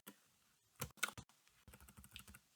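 Computer keyboard keys clatter in short irregular bursts of close, crisp clicks as code is typed, with brief pauses between key runs in a quiet room.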